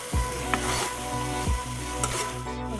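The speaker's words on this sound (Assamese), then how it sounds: "ছজিনাখিনিও অকণমান ফ্ৰাই হোৱা নিচিনা হৈছে।" Drumstick pieces fry with white mustard seed in a pan, a close, continuous sizzle broken by a few rhythmic scraping stirs.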